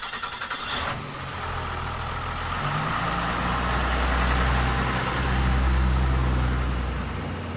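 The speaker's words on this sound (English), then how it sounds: "I like driving this truck, Dave." Roadkill ramp truck on the road, its engine droning low and steady from the cab as it cruises, swelling slightly louder toward the end.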